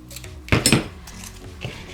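Scissors cutting paper for a collage, two quick close snips with light crisp rustling.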